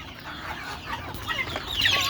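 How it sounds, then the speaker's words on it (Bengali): Free-range desi chickens, just released from their coop in the morning, cluck and call in a busy, close cluster that grows louder toward the end, with no talk. "এই যে মুরগিগুলো ছাড়া হইলো এখন"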